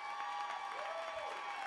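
Applause from a live audience at the Future Fund 2019 pitch event, a dense, steady wash of clapping and crowd noise that holds evenly through the whole stretch at moderate distance, with no voices on top.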